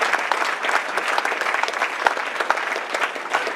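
Applause at an alumni banquet, a crowd clapping briskly and evenly, with a few sharp single claps standing out near the microphone, loud and sustained.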